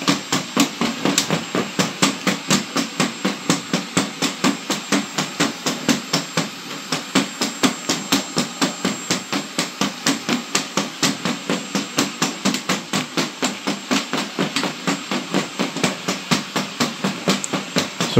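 Unitree Go2 robot dog walking under remote control, producing a fast, steady run of sharp clicking footfalls that continues evenly throughout, close and fairly loud with no talking.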